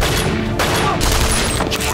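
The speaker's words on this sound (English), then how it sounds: "We're taking heavy fire." Movie trailer gunfire, a dense, loud fusillade of overlapping shots and booms mixed with music and effects, continuous across the whole stretch.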